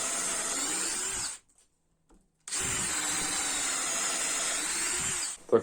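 A power drill with a good-quality bit bores steadily through material, a loud continuous whine in two long bursts separated by a roughly one-second pause, ending with a brief clunk.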